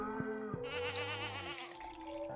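A goat from the farming game Stardew Valley lets out a single clear, close wavering bleat lasting about a second, framed by short game tones and a steady musical drone.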